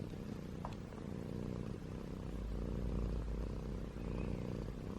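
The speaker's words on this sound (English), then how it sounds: "I hope the camera can hear her purring." A pet cat purrs steadily and close by, a continuous low rumbling drone that swells slightly louder midway and runs throughout without any talking.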